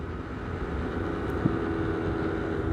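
A scooter is ridden during engine break-in, its steady, continuous engine drone heard up close with some wind rumble.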